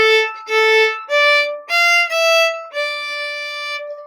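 A bowed string instrument, such as a violin, plays two measures of a blues melody, a handful of clear sustained notes in steady rhythm, alone and close.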